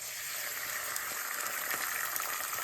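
A cracked egg frying in a buttered pan makes a quiet, even sizzle with faint pops scattered through it, heard alone without any talk.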